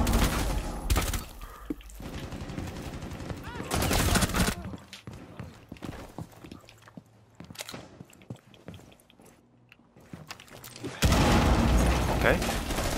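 Bursts of gunfire from Rainbow Six Siege open the stretch, return briefly in the middle and come back loud and dense at the end, with a player talking during the quieter gaps.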